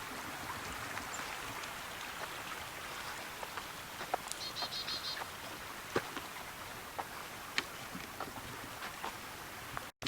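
A creek flows below a woodland trail at a wildflower preserve in Lancaster County, Pennsylvania, a steady broadband wash of water running continuously with faint scattered clicks and bird chirps over it.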